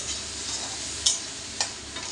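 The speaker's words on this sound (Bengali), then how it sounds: "চিংড়ি মাছটাকে এই যে লবণ দুধ দিয়ে মেখে একটু ভেজে নিচ্ছি" Shrimp coated in salt and milk frying in a pan, a steady close sizzle with two brief sharper spits, alone without talking.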